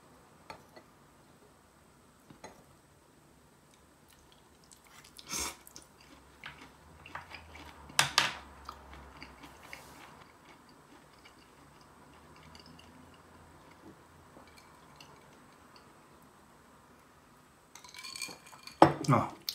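Someone eats mitsuba namul dressed with sesame oil in a quiet room, with sparse clinks of dishes and utensils and a few louder taps, and soft talk at times.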